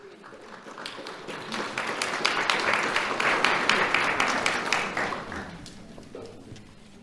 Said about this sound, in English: Let's have a round of applause for Kinsley Mee.